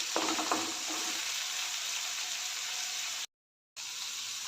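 Tomatoes sautéing in a pan until soft for bhindi bhaji, a faint, steady sizzle with a few stirring clinks at the start and a brief cut to silence near the end.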